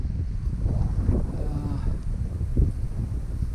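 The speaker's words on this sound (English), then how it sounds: "A little bit of wind picking up." Wind picks up across open country around a grooming tire being towed in winter, a steady low rumble and buffeting against the microphone with no clear voices.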